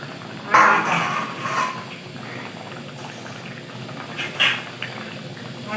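Village-style fish curry with summer vegetables bubbling in an open pot, a soft steady simmer with a couple of louder gurgling bursts near the start and again later, no speech.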